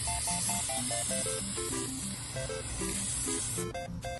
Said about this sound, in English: Now here comes my favorite part, spray paint.